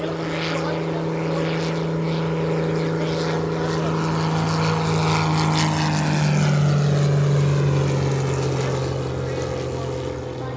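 Helio Courier single-engine propeller plane flying an airshow demonstration at EAA AirVenture, its steady loud engine drone holding throughout with the pitch easing slightly as it passes.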